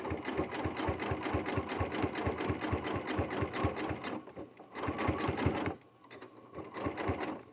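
A sewing machine stitches a jelly roll rug in close, loud runs of rapid, even mechanical thumps, pausing briefly twice and then starting again.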